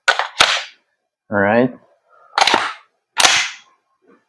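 Three sharp, loud pops from a G&G MGCR556 airsoft gas blowback rifle, fired close and spaced about a second apart, with a brief spoken word and a short voiced sound between the shots.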